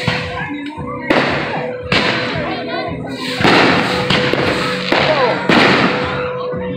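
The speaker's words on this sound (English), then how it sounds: "Oh my god, there's fireworks everywhere." Fireworks bursting all around at a park display, a rapid series of loud booms and crackling pops close by, with excited talking over the explosions.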